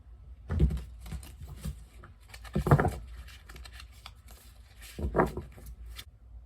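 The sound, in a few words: shuffling tarot cards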